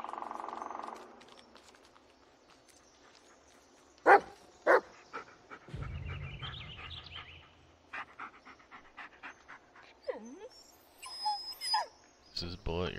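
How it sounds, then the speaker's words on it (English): A dog in the Blair Witch video game barks sharply a few times and pants, with whimpers and other game sounds scattered around it, close and fairly loud. "Listen to his barking and watch his body language."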